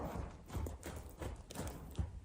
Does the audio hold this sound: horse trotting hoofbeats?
yes